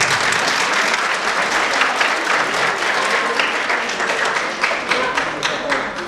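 Sustained, dense applause from an audience at an annual folklore ensemble concert in Rača, loud and close, with crisp clapping throughout and a faint voice or two underneath.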